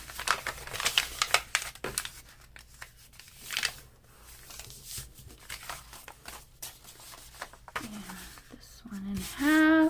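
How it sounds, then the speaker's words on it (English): Paper is crinkled and folded by hand into bookbinding signatures, close soft rustles and creases spread unevenly through the stretch, with a voice briefly speaking near the end. "Okay, so fold this like so."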